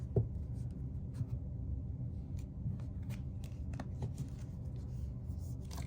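Tarot cards from a Whispering Woods deck shuffled and drawn by hand, with soft papery riffles and scattered sharp taps over a steady low room rumble.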